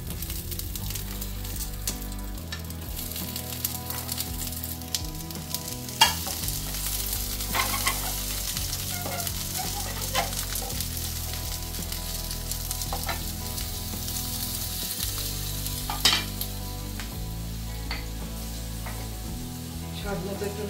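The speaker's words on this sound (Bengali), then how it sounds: "সবজিগুলো একটু আমি সতে করে নেব।" Vegetables sautéing in olive oil in a pan on a gas flame, with a steady close sizzle and occasional stirring scrapes running throughout.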